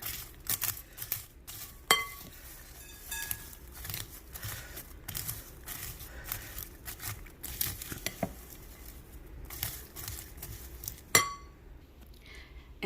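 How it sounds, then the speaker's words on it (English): Popcorn and M&M candies are folded and stirred together in a glass bowl, giving a steady patter of rustling kernels with scattered clinks of candy against glass, close and fairly quiet. "fold and stir and combine the popcorn with the M&Ms until it's mixed all together"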